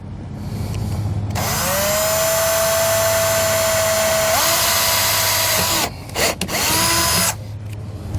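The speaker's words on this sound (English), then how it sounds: "we're going to take a 3/16 drill bit. And we're going to drill a hole right through the frame" A power drill with a 3/16 bit bores through the metal frame of a MaxxAir roof vent cover on a 2016 Keystone Cougar XLite RV roof, a loud steady whine that shifts pitch, briefly stops, then spins up again.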